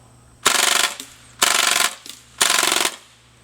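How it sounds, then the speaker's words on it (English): An airsoft machine gun fires on full auto in three loud, close bursts of about half a second each, separated by brief pauses and faint mechanical clicks. "this is the call to fame on this particular one. Full auto."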